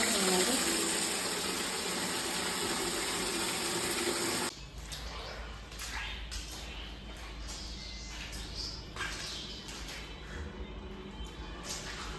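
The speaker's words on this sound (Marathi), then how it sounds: "पाणी भरते आणि इकडं पाणी मारते आता ही बाथरूम घसा नळाला पाणी" Water gushes loudly from a bathroom tap in an old house being cleaned, first a steady hard stream, then softer splashing and trickling after about four seconds.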